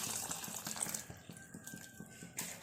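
Tamarind water pours into a pot of Palakkad-style roasted-coconut sambar with cooked vegetables, a soft, steady trickling splash close by that lasts a couple of seconds.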